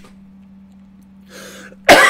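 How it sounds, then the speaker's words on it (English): One short, sharp cough right at the end, loud and close, preceded by faint breathy noise over a low electrical hum. "Excuse me for the cough."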